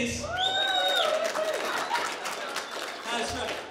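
Audience at a stand-up comedy show clapping and cheering with whoops and crowd chatter, a short burst of applause heard close, with voices over it.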